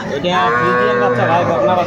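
A young Friesian heifer calf gives one long, loud, close moo at a crowded cattle market, with voices murmuring behind it.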